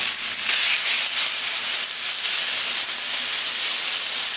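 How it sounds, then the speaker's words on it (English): Sirloin steak sears on a Camp Chef flat top griddle, a steady broadband sizzling hiss that holds loud and unbroken throughout, with no one speaking. "I want to make sure I get a nice sear on the meat."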